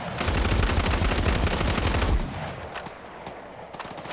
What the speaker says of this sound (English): I'm gonna keep shooting it.